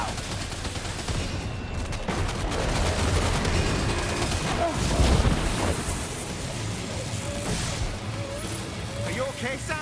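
Sustained gunfire in the video game Death Stranding 2 rattles on for about ten seconds as a dense, steady barrage, with voices mixed into the clatter.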